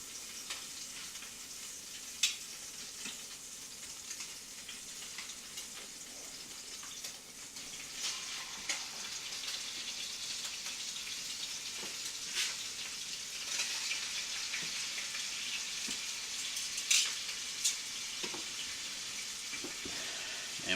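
Beef chunks for beef burgundy sizzle steadily in a hot pan, a continuous bright frying hiss with occasional pops and clicks of a utensil, growing slightly louder as the second batch goes in.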